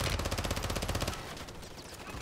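Rapid automatic gunfire rattles in a video game battle royale, a loud, evenly spaced burst lasting about a second, followed by a fainter, rougher tail of distant shots.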